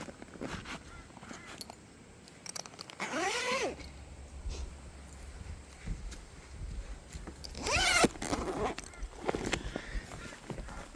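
Zip on the canvas of a Jayco Swan camper being undone, two short rasping zipper pulls a few seconds apart, close and fairly loud over quiet background rustling and handling noises.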